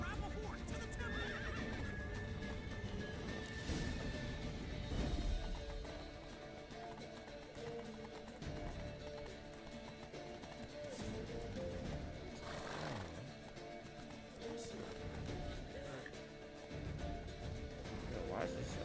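Horse whinnies and hoofbeats from The Witcher 3 video game, the neighs and clip-clop faint and intermittent within a busy in-game soundscape with music and effects, while a player talks over it.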